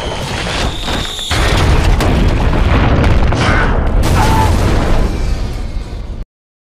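In a World War Z film scene, an airplane crashes with a huge explosion: a loud, continuous roaring boom and rumbling debris lasting several seconds, with a brief hiss of wind early on before the blast.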